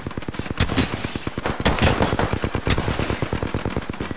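Sustained rapid automatic gunfire in the battle royale game Apex Legends, loud close bursts of evenly spaced shots running without pause, with a few sharper louder cracks mixed in.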